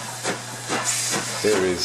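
LMS Class 5 steam locomotive 5428 Eric Treacy brings a train into Whitby station on a line shared by the heritage railway and Network Rail, with a steady, close steam hiss under a voice.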